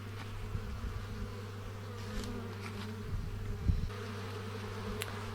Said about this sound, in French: on voit quand même qu'il y a un gros flux d'abeilles qui arrive